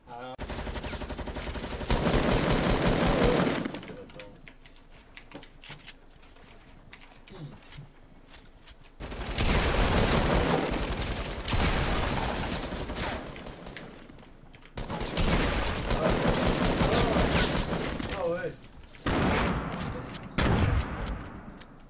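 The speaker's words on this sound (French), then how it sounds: "Ça tire dans le dos, je pense." Bursts of rapid automatic gunfire in a Fortnite match, loud volleys in three main stretches separated by quieter gaps, with players talking over the action.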